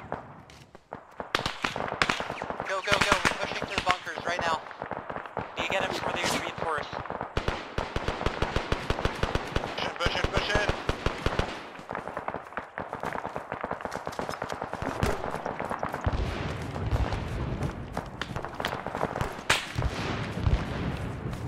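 Gunfire in the military game Arma 3 crackles in dense bursts and scattered single shots, sharp and loud, nearly continuous, with voices talking at times.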